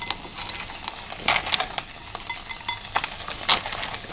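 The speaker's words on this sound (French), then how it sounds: "Alors les coques, j'ai juste rincé. Juste les ouvrir. On va les cuire quelques minutes." Rinsed cockles cooking in a pan give a soft, steady sizzle broken by sharp clinks and taps of shells and utensils at irregular moments, close and without talk.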